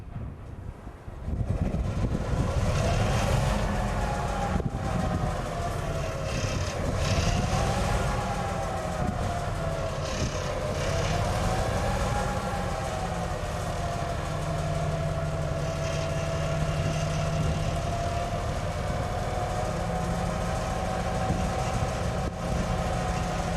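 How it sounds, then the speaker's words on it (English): A Class M62 diesel locomotive engine turning over and settling into a steady, heavy idle, a loud continuous rumble with a wavering mid-range drone that holds for over twenty seconds. "the engine is seen starting up prior to the loco working its next turn of duty"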